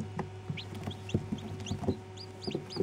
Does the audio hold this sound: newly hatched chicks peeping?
yes